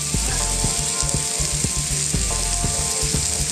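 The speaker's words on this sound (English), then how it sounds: "let me turn it over, let's see if I got a sizzle again." Steady, loud sizzling of a Wagyu ribeye steak searing on a hot rock, with a continuous crackling hiss and a few faint pops throughout.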